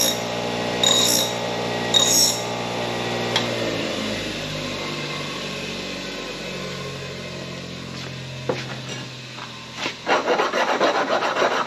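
Coping file rasping around the inside of a bandsaw cut, repeated close scraping strokes of metal teeth on wood, starting with a few separate rubs and building into quicker, louder strokes near the end.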